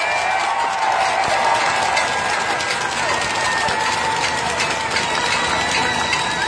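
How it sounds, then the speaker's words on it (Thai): Dense, steady applause from a seated audience at a Thai street protest rally, a loud wash of many hands clapping throughout with no break. "ขอเสียงปรบมือให้พี่น้อง"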